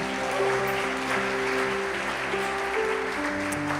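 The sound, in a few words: congregation applause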